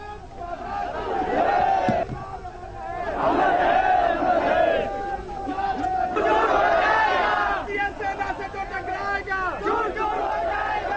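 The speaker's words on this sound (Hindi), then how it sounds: "बिहार के शहीद सुनील कुमार के आखिरी रस्मात की अदायगी के दौरान हजारों लोगों की भीड़ देखने को मिली" A crowd of thousands gathers at the last rites of Bihar soldier Sunil Kumar, killed in the Galwan Valley. Loud voices rise together in repeated chanted slogans, swelling in waves and then falling back into a murmur of chatter.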